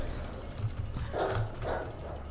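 A zombie dog in Resident Evil 2 gives a couple of short snarling barks over a low rumbling game ambience, moderately loud and close.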